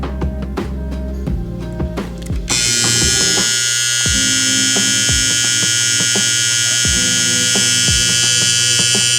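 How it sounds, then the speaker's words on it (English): A TPOB Ox hair clipper switches on after a few scattered clicks and then runs with a loud, steady, high-pitched buzzing hum close by. "let's get into how these things sound"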